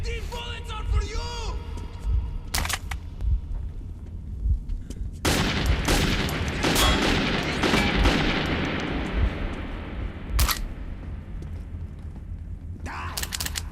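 Gunfire rattles through the Metro 2033 shooter: bursts of loud, sharp shots and rapid automatic fire ring out in clusters. A raised, shouting voice talks between and over the bursts.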